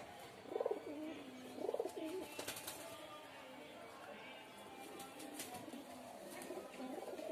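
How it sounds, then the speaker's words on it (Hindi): A pigeon of an Andhra breed coos nearby in two soft, rounded bursts early on, over a quiet background with faint ambient noise. "ये भी महेंद्रास का कबूतर है जी।"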